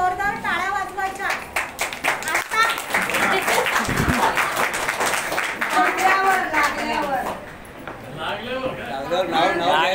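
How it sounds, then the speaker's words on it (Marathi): Group applause, many people clapping hard together in a dense, continuous burst that holds loud for the whole stretch, with voices calling out over it. "जरा सर्वांनी जोरदार टाळ्या वाजवायच्या।"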